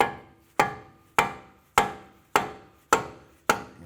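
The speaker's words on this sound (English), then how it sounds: "You can try a dead blow hammer." A dead blow hammer strikes a CV axle seized in the hub of a 2004-2008 Acura TL, seven evenly spaced, solid thuds with a short ringing decay after each, no talking.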